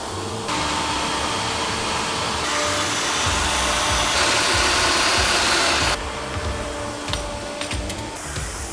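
A forge blower runs for melting copper, producing a steady, loud whooshing roar with a faint mechanical whine that shifts in level partway through and drops toward the end.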